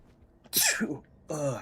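A single sharp sneeze bursts out close and loud, followed moments later by a second short sneeze-like burst, against a quiet background.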